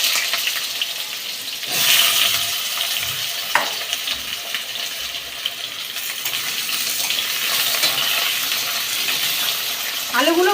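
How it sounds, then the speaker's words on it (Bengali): Potatoes fry in hot oil for a Bengali dal bora dish, giving a steady bright sizzle throughout, with a brief burst of stronger crackle early on and occasional clinks of a utensil, no speech. "এবার ওই তেলের মধ্যে বন্ধুরা আমি আলুগুলোকে ছেড়ে দিলাম।"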